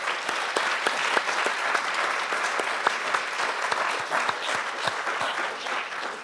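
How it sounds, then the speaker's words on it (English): An audience at an academic forum on Asia gives the speakers a round of applause, with dense, sustained clapping and a few sharper individual claps standing out throughout. "If we could give them a round of applause"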